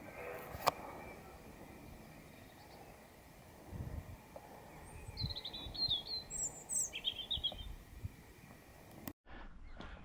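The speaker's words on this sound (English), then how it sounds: "Robin up there whistling." A robin whistling from up high on a March hillside walk near Ramsley Hill and Cosdon Beacon, its faint, quick high phrases coming in short runs over wind and low rustling in the second half.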